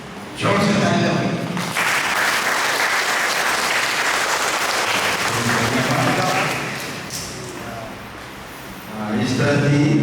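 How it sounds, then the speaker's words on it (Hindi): Wedding guests at a Christian marriage ceremony clap loudly and steadily for several seconds, the applause dipping slightly before swelling again near the end. "जोर से ताली बजाओ।"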